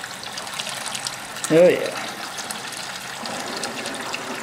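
Water bursts briefly from a washer valve on a PEX distribution line into a bucket during a leak check: a single loud, close gush lasting under a second, with someone speaking in a quiet room.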